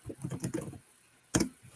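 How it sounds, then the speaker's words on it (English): Someone types on a computer keyboard in a quick patter of soft keystrokes. A pause follows, then one sharp, louder key strike stands alone near the end. "Are you over there typing in questions?"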